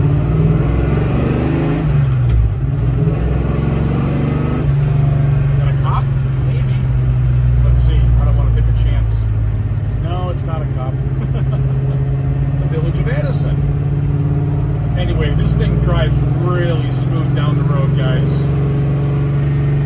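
A 1967 Chevrolet Chevelle's engine drones steadily and builds as the car is driven, loud and close under someone talking throughout.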